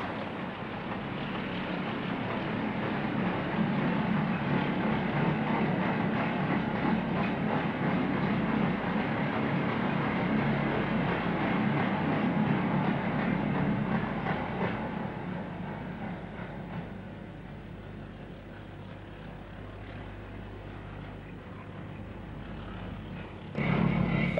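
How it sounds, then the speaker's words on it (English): A Class 26 diesel locomotive climbs toward Slochd in Scotland hauling an evening freight train, giving a steady, loud, sustained engine roar with rumbling wagons that eases slightly near the end. "this Class 26 climbing towards Slochd with this evening freight"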